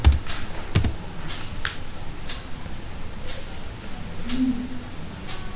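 Computer keyboard typing, sparse irregular keystrokes and a few sharper clacks, close and fairly quiet, with no talk.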